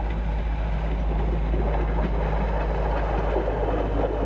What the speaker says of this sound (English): Not a train, but still on rails, is this standard gauge high rail vehicle, bound for some maintenance further up the track.